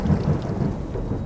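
A thunderstorm with heavy rain, giving a dense continuous rumble and hiss at loud level that holds steady throughout, with no voices.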